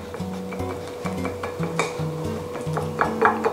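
A wooden skewer jabs rapidly and repeatedly through a raw chicken breast in a kitchen, making quick light taps and clicks, with a steady musical tone running underneath.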